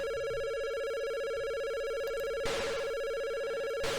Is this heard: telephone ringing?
yes